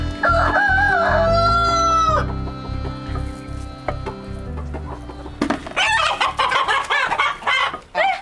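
A rooster crows loudly up close, followed by a burst of excited clucking and squawking from nearby chickens.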